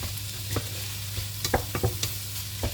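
Rice with minced meat cooking in a pan, stirred with a utensil: several distinct scraping strokes over a steady low sizzle, close and moderately loud, with no talking.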